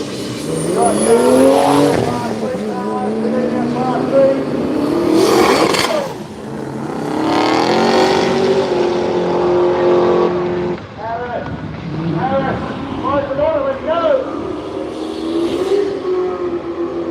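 Drag racing cars at Willowbank Raceway roar and rev loudly down the strip, with rising engine whines and bursts of acceleration that come and go across the stretch, under crowd noise and people talking nearby.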